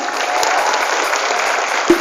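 A school audience at an Islamic junior high in Jatinangor, Sumedang claps together in a dense, steady burst of applause lasting about two seconds, loud and close, ending with a single sharp thump.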